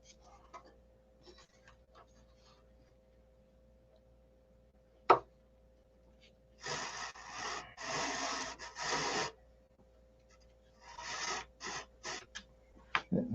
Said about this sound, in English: This is just a paint stick, C80 grit on the edge.